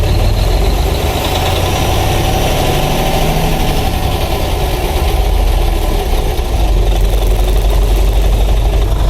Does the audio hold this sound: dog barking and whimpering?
no